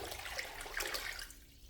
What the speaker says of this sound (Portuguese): Eu vou acrescentar aqui 6 litros de água em temperatura ambiente